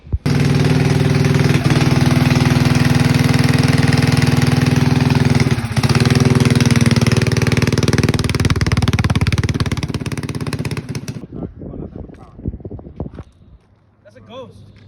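A minibike powered by a Predator 212 engine runs loud and close, a steady buzzing drone for about ten seconds before it winds down and cuts out to near silence.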